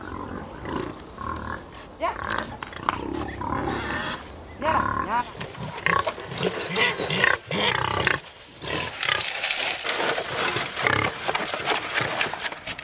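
Pigs on a farm at feeding time with soup being served: loud, close grunting and squealing from several animals in overlapping bursts, with a voice speaking among them.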